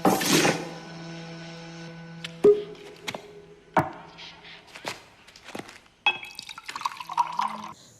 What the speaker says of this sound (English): The sounds of drink pouring is exaggerated in slow motion